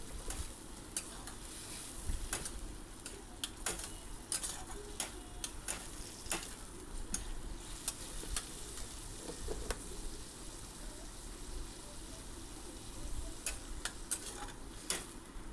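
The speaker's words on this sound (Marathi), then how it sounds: "अगदी मंद गॅसवर आपल्याला हा कांदा 4 ते 5 मिनिटांसाठी मस्त असा परतून छान भाजून घ्यायचा आहे" Onion with a pinch of salt sautéing in a pan over very low gas, a steady soft sizzle with scattered light ticks and scrapes of stirring, close and continuous throughout.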